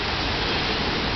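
Small ocean waves at Pleasure Point on the East Side of Santa Cruz, heard as a continuous broadband wash of surf, steady and fairly close with no distinct breaks, on a calm, sunny day.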